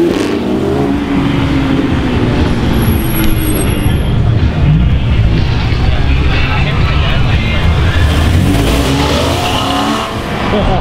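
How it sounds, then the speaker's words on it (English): Sports cars at a Cars and Coffee meet at a Porsche dealership rev and pull away in a steady, loud, continuous engine roar with passing traffic and people talking in the background. "And I got some of the cars leaving."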